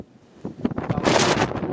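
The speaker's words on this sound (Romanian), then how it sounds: "Bate vântul îngrozitor de tare." Strong wind during a sandstorm buffets the microphone with harsh, gusty roaring that builds from quiet to loud, heavy blasts in the second half.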